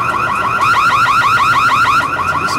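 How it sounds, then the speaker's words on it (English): A loud, close electronic alarm warbles in a rapid repeating sweep, like a car alarm, sounding alone and steady for the whole stretch. "There will be a sound that sounds a bit like an alarm"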